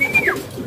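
A racing pigeon returning to its loft from Mulanay during a derby race in Balatan, Camarines Sur gives a single short call over steady outdoor background noise.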